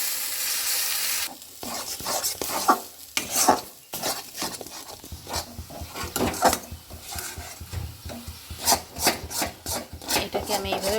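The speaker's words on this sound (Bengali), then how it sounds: "এটাকে আমি এইভাবে ভালোভাবে ভুনে নেব" Green peas are stir-fried in a wok for a kachori filling, with repeated scraping spatula strokes over a continuous sizzle, close and fairly loud throughout.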